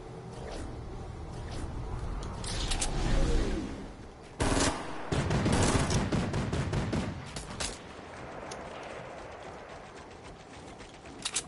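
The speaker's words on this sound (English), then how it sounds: "Someone is shooting." Gunfire in the video game Fortnite, a dense run of rapid shots and bursts with loud cracks in the middle of the stretch and sparser pops toward the end, no talking.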